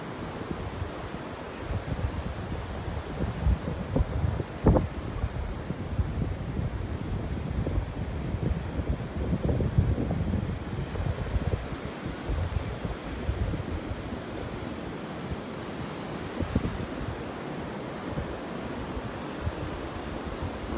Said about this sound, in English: These waves are just washing everything off the beach this morning.